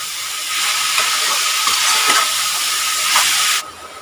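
Chicken pieces sautéing in a pan give a steady close sizzle and hiss with faint stirring scrapes, then the sound cuts down sharply just before the end.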